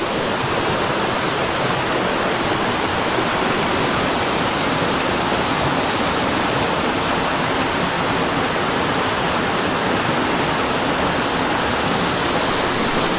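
Steady, loud rush of a mountain stream waterfall, a dense unbroken roar of falling water filling the whole clip with no voices.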